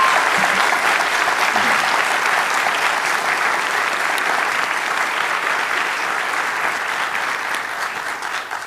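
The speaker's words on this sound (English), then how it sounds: "And one final round of applause for our debaters for the job they did tonight." A debate audience gives the debaters a sustained round of applause, a thick even wash of clapping from many hands that tapers off slightly after nearly nine seconds.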